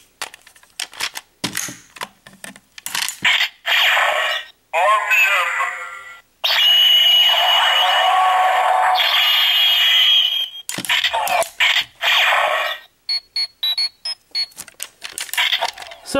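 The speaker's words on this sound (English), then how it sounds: "There you have all of those sounds on the Legendary Morpher." Power Rangers Legendary Morpher toy with the RPM ranger key plays a burst of electronic effects: clicks, buzzy zaps and revving bursts in a choppy sequence, loud and close.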